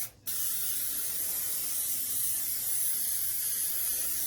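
An aerosol can of spray-on adhesive glue hisses in one continuous, steady burst after a brief quiet moment, loud and close with no voices.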